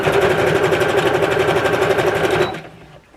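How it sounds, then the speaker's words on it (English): A sewing machine stitches fabric in a rapid, even, mechanical run, loud and close, then stops abruptly near the end and leaves a faint hum. "I always start sewing forward, then I sew back a little bit, and then I sew forward again"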